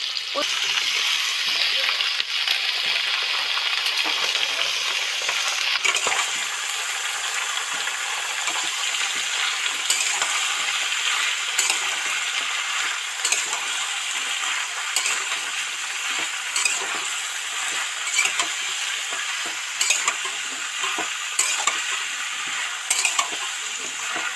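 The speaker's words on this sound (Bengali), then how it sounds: "পেঁয়াজগুলিটা মোটামুটি সব সফট হয়ে এসছে এবার সব রকম সবজি দিয়ে দিচ্ছি" Mixed vegetables are added to softened onions frying in oil for a prawn and vegetable dish, giving a steady, even sizzle with light stirring ticks and scrapes throughout.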